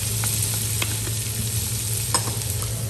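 Chopped onions and celery sizzling steadily in a hot pan with a low hum beneath, while a utensil stirs and scrapes in scattered taps close by, no talking.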